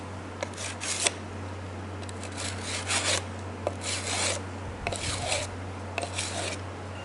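A damaged knife blade is sharpened on sandpaper, with a series of short, irregular abrasive scraping strokes close up over a steady low electrical hum.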